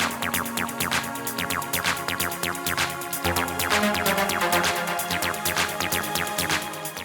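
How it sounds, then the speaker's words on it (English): Deep, ever-building techno break: a dense sustained synth bed with rising, sweeping tones and a low rumble, loud and continuous with the beat thinned out. "And finally, deep but ever-building break sound."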